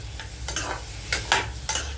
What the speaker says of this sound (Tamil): முள்ளங்கி கொஞ்சம் லைட்டாக வதக்கிடுச்சு